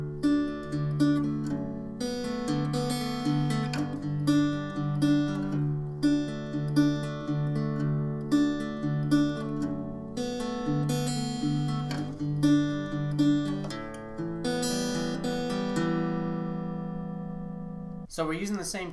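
An acoustic guitar fingerpicks the second verse pattern of a song, plucking steady chord arpeggios. The notes ring clearly at moderate volume with no voice over them, closing on a sustained strum.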